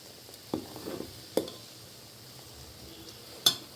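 A pot of herbal hair oil boiling while being stirred, with a faint steady simmer under three sharp knocks of a utensil against the vessel's side, spaced irregularly.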